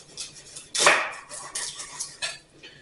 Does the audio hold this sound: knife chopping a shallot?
yes